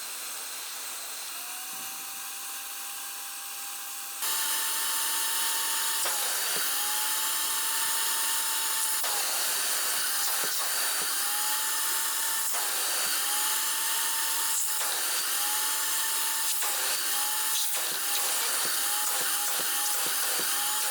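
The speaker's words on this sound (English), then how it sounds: "I took my vacuum cleaner, which is a shop vac. It's a wet and dry shop vac." A wet and dry shop vac extracts shampoo from the carpets of a 1998 Land Rover Discovery, its loud steady motor whine rising to full power partway through and dipping briefly and repeatedly as the nozzle slurps at the carpet.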